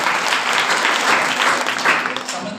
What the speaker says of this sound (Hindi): बहुत वेरी ताली बजाओ इसके लिए